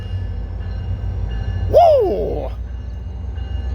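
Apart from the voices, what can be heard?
Metrolink passenger train number 900 passing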